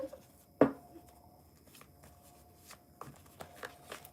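Tarot cards are shuffled close up, a sharp riffle snap followed by quieter scattered flicks and slides of cards, with no talking.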